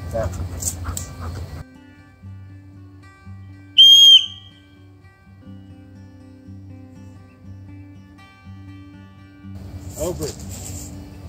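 One sharp, piercing dog training whistle blast cuts in briefly midway, surrounded by low background sounds, with Chesapeake Bay Retriever noises and a voice at the start and end.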